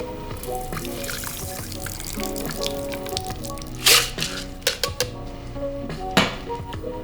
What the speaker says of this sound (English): Gonna take our fine strainer.